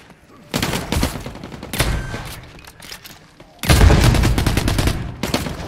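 Auto rifle fire in The Cycle: loud, dense bursts of rapid automatic shots, one short burst early, then a longer sustained volley, with brief lulls between them.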